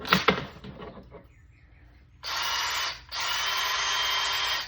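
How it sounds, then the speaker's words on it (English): Power-driven auger used to clear a clog in a dryer vent, a few taps and rattles and then two loud sustained whirring runs separated by a short pause. "If the brush doesn't work, then we could use this auger."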